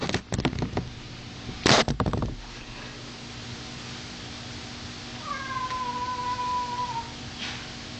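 A cat gives a single drawn-out meow near the end, after a few sharp clattering knocks and splashy noises earlier.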